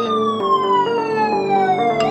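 Siren in a podcast news jingle, a loud wailing tone that slides steadily downward with a pulsing beat underneath, alone and close.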